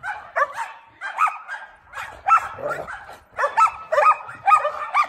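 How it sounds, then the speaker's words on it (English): Several dogs, including an Australian Shepherd in a backyard, bark repeatedly in quick, uneven bursts with some yips, fairly close and loud, with no talking over them. "Of course, everybody's got to bark at him."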